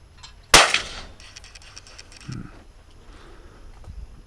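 A single sharp shotgun blast at a trap-shooting clay target, loud and close, then a quiet outdoor tail with faint distant sounds.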